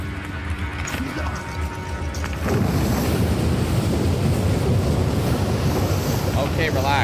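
A river blazes in the One-Eyed Likho video game: a loud, steady roar of fire that swells sharply partway through and then holds as a broad, rushing wall of noise.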